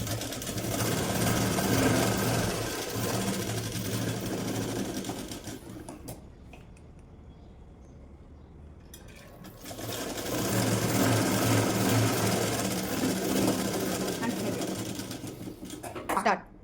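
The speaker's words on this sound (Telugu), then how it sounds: "ఇప్పుడు బ్యాక్ డాట్స్ స్టిచ్ చేస్తున్నాను" A sewing machine stitches the back darts of a blouse, running in a loud continuous whir, pausing for a few seconds, then starting again.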